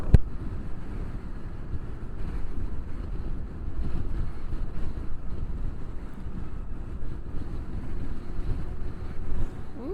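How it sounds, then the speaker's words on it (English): Continuous rough wind buffeting the microphone, a loud low rumble with gusty bursts throughout, no voices. "Ooh, it's windy."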